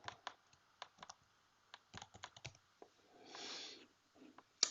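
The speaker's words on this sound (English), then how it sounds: "If I could type, it would really help." Typing on a computer keyboard during a Cisco Umbrella partner setup, with irregular bursts of close, crisp key clicks separated by short pauses and a brief rustling noise near the end.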